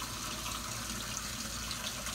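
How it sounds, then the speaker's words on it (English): Tap water runs steadily into a cooking pot for stock, giving a close, continuous splashing rush at low volume with no talking. "So I'm gonna fill it up with water here."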